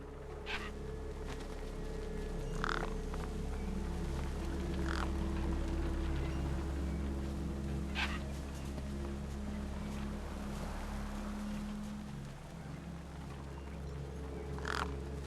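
Crows cawing over a corpse in the video game Beyond a Steel Sky, several sharp calls scattered across a steady low ambient hum, moderately close with no talk.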